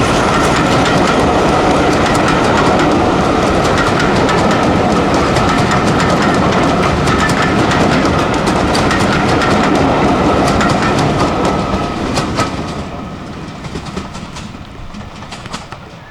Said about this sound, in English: Hurrying through Erdington Halt, D821 Greyhound passes with the 2:50 p.m. Bridgnorth to Kidderminster service.